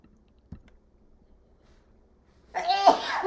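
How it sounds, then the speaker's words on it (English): A woman sneezes once, loud and close, after a faint click in near silence, and the sneeze trails into breathy noise at the very end. "now I'm going to sneeze"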